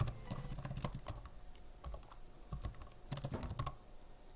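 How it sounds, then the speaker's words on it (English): Keystrokes on a computer keyboard as a name is entered into a web form, two short bursts of quick, close clicks separated by a quieter pause. "So I can type my name here"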